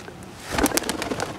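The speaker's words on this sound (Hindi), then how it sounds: "पहले अदर अली के पास बहुत ज्यादा कबूतर थे" Pigeons kept in a village loft, with a few short, soft cooing calls close by against quiet rustling background noise.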